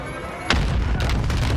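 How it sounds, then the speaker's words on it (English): A burst of grenade blasts in Call of Duty Modern Warfare, one heavy boom landing abruptly then rumbling on under dense battlefield noise. "Why were there five grenades there?"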